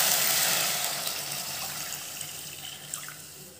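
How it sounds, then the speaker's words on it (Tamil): Two cups of water poured into a hot kadai while cooking jamun fruit halwa, a bright hissing splash that starts strong and slowly fades as the pour settles. "அதல 2 கப் அளவுக்கு தண்ணி சேர்த்துக்கறேன்."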